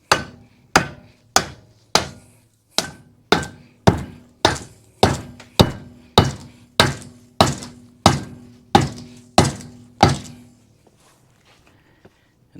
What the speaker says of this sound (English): The thing with a lead hammer, all day long, do whatever you want. It will not harm the chrome.